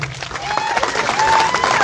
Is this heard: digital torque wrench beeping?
no